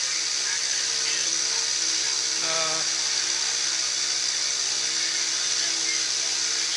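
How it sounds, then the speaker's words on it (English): A milling machine side milling with a 1/4 inch carbide end mill cutting steadily, a continuous high-pitched whine and hiss that stays close and loud, with a brief tonal shift partway through. "I'm side milling. I've got a 1/4 inch end mill in there"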